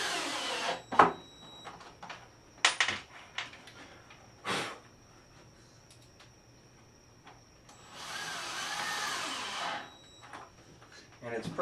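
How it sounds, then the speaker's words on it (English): A small Porter Cable electric drill whirs in short bursts while building a buffet with hutch, with one longer run near the end. Clicks and handling knocks come between the runs in a quiet workshop. "I've just gotten used to this little Porter cable drill."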